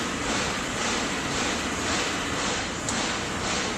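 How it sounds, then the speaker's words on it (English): Metal fabrication shop noise from the far side of a building, heard as a steady, broad industrial roar and hiss with no distinct hits, continuous and fairly loud throughout, with no talking, near a 2009 Edwards Engineering 7 ton air cooled chiller. "The noises you hear in the background are simply a metal fabrication shop that's on the other side of the building here."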